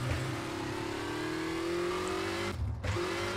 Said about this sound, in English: I'm sliding away